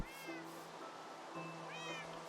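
Cat meows from a Minecraft game, two drawn-out calls with a faint steady tone beneath, fairly close and clear.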